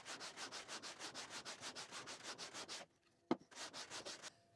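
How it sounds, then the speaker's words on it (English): Wooden prototype electric guitar neck rubbed back and forth across sandpaper in quick, even rasping swipes, close and rhythmic, then a brief pause, a sharp knock, and a few more strokes. "a couple more swipes across the sandpaper"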